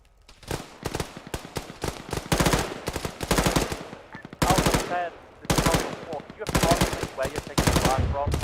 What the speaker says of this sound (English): We're taking fire from southeast.